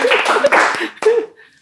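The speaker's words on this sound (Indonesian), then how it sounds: "Tepuk tangan gitu" A few sharp hand claps ring out in a podcast studio, close and loud, set among lively voices.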